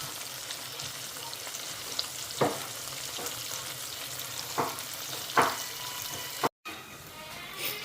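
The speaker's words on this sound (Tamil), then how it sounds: "இங்கே மீன் பொறிச்சு போட போகிறேன்" Steady sizzle of fish frying in oil crackles throughout, with a few sharp scraping stirs and a brief dropout near the end.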